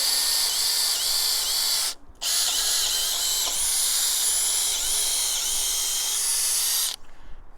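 A power drill with a 3/8 inch bit bores into wood, a steady high whine running loud and close for about two seconds, then a short pause before the drilling resumes for nearly five seconds more and stops.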